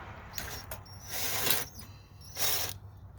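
Ratchet fitted with an 8mm socket loosening a bolt on a 2002 Chevy Colorado, a close, moderately loud ratcheting buzz in two or three short strokes, with no talk.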